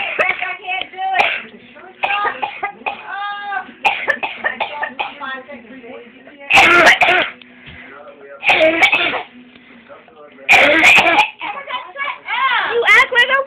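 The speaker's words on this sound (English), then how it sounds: "it hurts to cough. I don't want to cough." Several bursts of coughing and harsh throat clearing, loud and close, break up stretches of talking, with a few sharp, forceful coughs standing out among the chatter.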